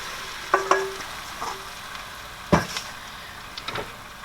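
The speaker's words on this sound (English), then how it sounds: "now I'm going to go ahead and I'm going to tip my corn in here" Corn tipped into a pan of sizzling melted butter, with a soft steady sizzle beneath a few scraping clatters and knocks of the pan and utensil.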